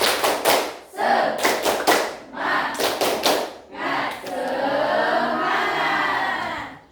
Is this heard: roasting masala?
no